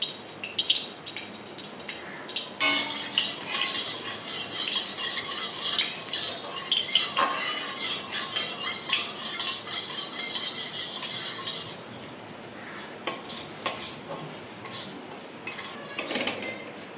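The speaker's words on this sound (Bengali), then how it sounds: "এই দেখো সুজিটা ভাজা হচ্ছে।" Semolina fries in ghee in a pan while a utensil stirs and scrapes it, making a continuous soft sizzle broken by repeated light metallic clinks, close and moderately quiet.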